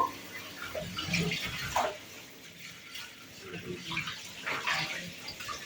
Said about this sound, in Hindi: इसलिए मैंने सोचा कि यहीं पर आज कपड़े धो लेती हूँ।